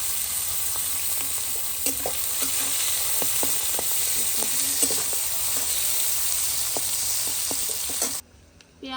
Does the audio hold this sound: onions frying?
yes